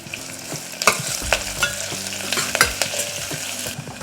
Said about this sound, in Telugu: ఉల్లిపాయలు ఒక్క నిమిషం వేగిన తర్వాత రెండు పచ్చిమిర్చిని పొడవుగా కట్ చేసుకొని వేసుకోవాలి కొంచెం కరివేపాకు వేసుకోవాలి